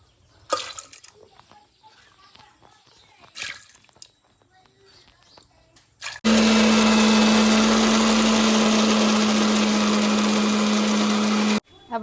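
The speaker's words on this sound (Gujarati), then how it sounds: "તો હવે આપણે મિક્સરમાં કાઢવાનું છે. તો આપણે નાખી દઈશું મિક્સરમાં." A mixer grinder whirs loudly and steadily as it grinds soaked dosa dal into batter, starting abruptly partway through and running for about five seconds before cutting off, after a quieter stretch of faint kitchen clatter.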